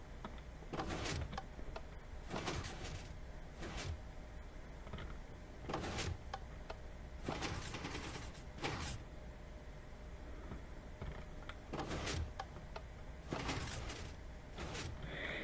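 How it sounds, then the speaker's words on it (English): Wooden door in Minecraft swinging open and shut, a series of short sharp clacks repeating at irregular intervals, clear and fairly close with no talk. "I keep hearing like a door opening, but not like a piston, like a normal door"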